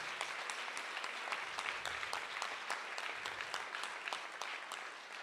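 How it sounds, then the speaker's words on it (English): Fairly faint but dense clapping from a crowd at a 100th birthday celebration program honours the volunteer teams, a steady wash of many hands with a few sharper individual claps standing out. "for them we should give a big round of applause"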